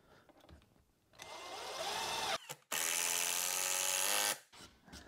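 Power drill driving screws into wooden ramp pieces on a workbench, two close, loud whirring bursts, the second higher and steadier, separated by a brief pause.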